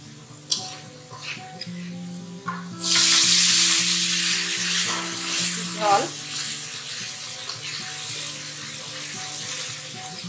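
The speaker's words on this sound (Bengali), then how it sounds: "এটা এখন কষাতে হবে তাই না মা?" Spices such as turmeric, coriander powder and a little dried chilli hit a hot pan for a vegetarian dish, bursting into a loud sizzle that gradually settles into steady frying, with someone talking over it.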